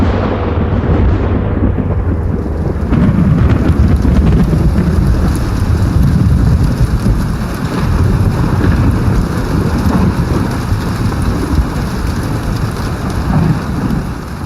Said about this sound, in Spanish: Aquella noche hubo una tormenta